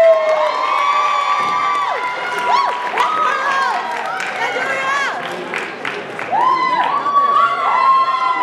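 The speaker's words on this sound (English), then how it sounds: "can I have all the performers come back on stage with a round of applause?" Festival crowd cheering, whooping and shouting as performers return to the stage, with children's voices among them; the noise is loud and sustained throughout, with voices rising in swells.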